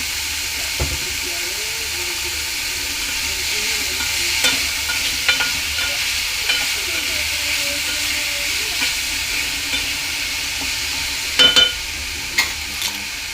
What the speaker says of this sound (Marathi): आणि चांगलं थोडंसं असं ब्राऊन कलर होईपर्यंत आपण याला चांगलं शिजवून घेऊया।